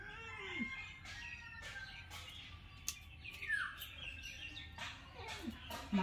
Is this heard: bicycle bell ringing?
no